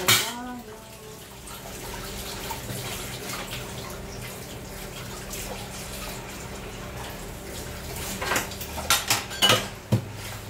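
Dishes, pots and cutlery being washed at a home sink after grocery shopping, a steady wash of water and soft clatter throughout, with sharper clinks and knocks of utensils and crockery near the end.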